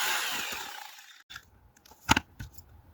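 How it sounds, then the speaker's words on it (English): A power drill bores into a concrete driveway during leveling work with spray foam, giving a harsh, bright grinding whir that fades over the first second, then brief sharp bursts and knocks of drilling, close and without talk. "Get in there with the drill."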